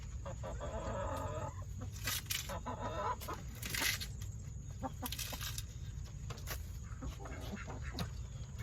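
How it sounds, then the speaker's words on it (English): Chickens cluck and a rooster crows amid a busy farmyard, several birds calling intermittently at moderate distance over a steady low background rumble. "Chickens around here."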